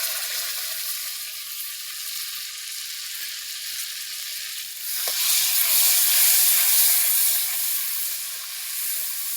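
Homemade tomato paste hits a hot pan and sizzles with a steady bright hiss that swells louder midway as it spreads, close and continuous with no talk.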